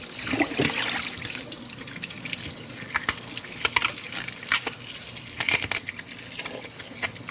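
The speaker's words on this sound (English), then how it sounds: "You wash out inside this part here. So all these parts, you wash it." Juicer parts rinsed under a running tap, with a steady trickle of water broken by scattered sharp clinks and knocks of the pieces being handled, close and moderately loud.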